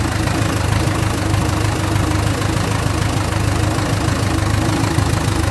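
A Land Rover Series 3 with the 2 1/4 diesel engine runs steadily close by, a loud, continuous low idle with a rough knocking chug throughout and no voices.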